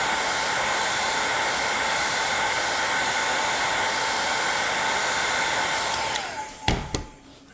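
A hot air tool blows on the circuit traces of a Casio fx-570C calculator display during repair, giving a steady loud whooshing roar that cuts off near the end, followed by a couple of small clicks.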